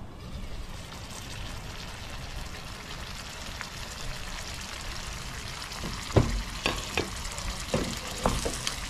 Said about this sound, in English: Listen to the sizzling.